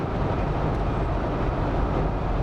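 A train passing over a railway bridge, heard as a heavy, continuous low rumble with steady broadband roar, loud and unbroken throughout.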